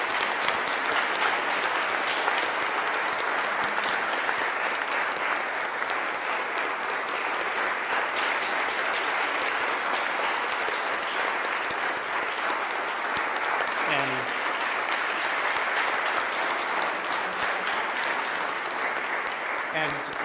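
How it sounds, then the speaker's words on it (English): A live audience at the Milwaukee mayor's 2024 budget presentation gives Mailman Mike a huge round of applause, a dense, steady wall of clapping that holds loud and unbroken for the whole stretch, with a few voices faintly mixed in. "give a huge round of applause to Mailman Mike for his service"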